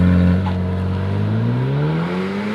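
Alpine A110 development prototype, a mid-engined 1.8 litre turbo sports car, drives close by with a strong steady engine hum whose pitch climbs smoothly as it accelerates, loud throughout with no talking.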